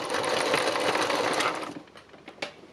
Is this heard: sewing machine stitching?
yes